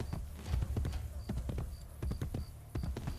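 Horses' hooves clip-clop at a slow walk in the video game Assassin's Creed Brotherhood, several horses giving a steady, fairly close rhythm of hollow knocks at moderate to low level.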